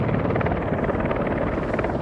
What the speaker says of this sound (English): There goes the helicopter taking off.